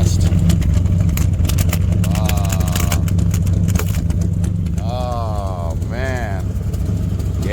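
A 1972 Chevy C20 engine with a misfire idles nearby in a loud, steady rumble with uneven pulses, while a few short voices break in over it.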